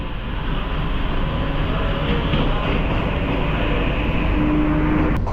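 An air-conditioned electric commuter train rumbles steadily nearby with continuous rail noise, loud and unbroken, as it rolls into Chennai Fort railway station.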